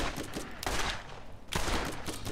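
In the looter-shooter Borderlands, loud bursts of automatic gunfire come in two heavy volleys separated by a brief lull, dense and close throughout.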